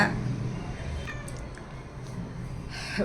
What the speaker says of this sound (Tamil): அதுக்கு தான் 2 பூனை வளர்த்திக்கிட்டு இருக்கிறேன்